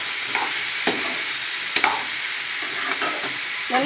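Utensil scraping and stirring curry in a large pan, a few distinct clinks and scrapes over a steady background hiss of cooking.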